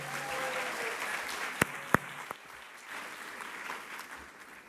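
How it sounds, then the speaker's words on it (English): Applause rises for Joy Bivens at a Schomburg Center centennial kickoff evening, a soft, distant patter of clapping with a few sharper claps standing out before it thins. "Can you get one more round of applause for Joy Bivens, our fearless leader?"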